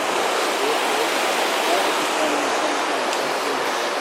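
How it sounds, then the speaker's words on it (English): Big river flowing beside a hiking trail near a bridge, a steady broadband rush of water that stays loud and constant throughout, with no pauses. "Pretty big river."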